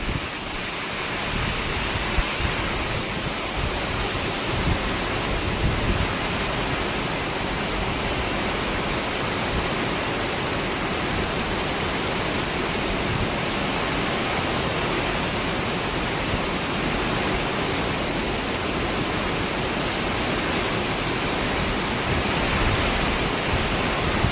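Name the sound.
heavy rain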